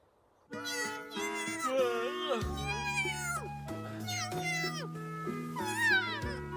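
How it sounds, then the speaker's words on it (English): Cat meows in an anime scene, layered over a steady music score and dialogue, with several high, wavering calls rising above the background through the clip. "What are you meowing at so early?"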